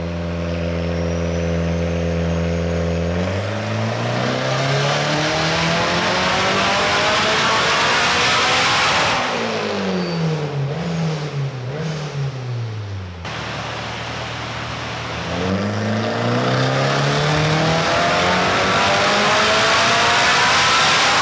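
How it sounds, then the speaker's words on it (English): A turbocharged K24 engine in a widebody Subaru BRZ revs hard and holds at high RPM, drops briefly, then climbs and screams again, loud and close throughout. "Should I just keep revving it right to the moon?"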